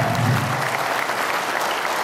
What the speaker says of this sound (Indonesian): Tepuk tangan dulu dong buat Anda semuanya ya.